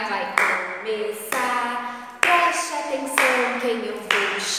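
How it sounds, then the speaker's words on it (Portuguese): Children in a kindergarten class clap their hands together in sharp, fairly regular bursts, close by, while an adult sings and talks over the clapping. "Todo mundo batendo palmas"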